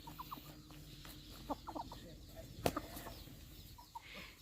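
Chickens, including grown adult birds on a farm, give several short clucks scattered through a busy outdoor background, with one sharper call standing out midway.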